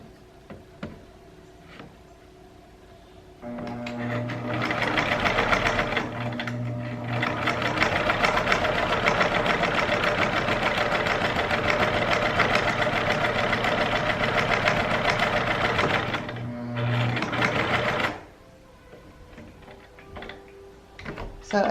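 A sewing machine stitches along the edge of a fabric mask, a loud steady mechanical whir running about fifteen seconds with one brief pause, between quiet stretches at start and end.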